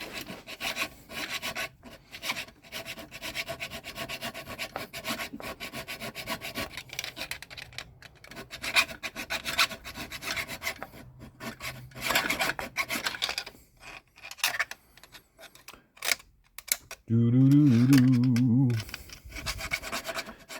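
Hand filing on the burred gear teeth of a Mitsubishi flex plate, a dense run of rasping metal strokes that goes on through most of the stretch, close and steady, broken by short pauses and one brief louder tonal buzz near the end.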